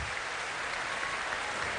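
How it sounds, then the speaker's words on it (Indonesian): A studio audience at an Indonesian television talk show in Aceh claps in a dense, steady burst of applause filling the room. "Oke, kasih tepuk tangan dong."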